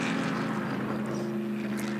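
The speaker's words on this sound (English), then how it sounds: "he has got exhaust pipes coming out both sides of the car. It makes a lovely rumbling noise" A classic 1960s endurance race car at the Le Mans Classic round at Dijon, with exhaust pipes exiting both sides of the car, gives a loud, steady, continuous engine rumble that fills the whole moment without letting up.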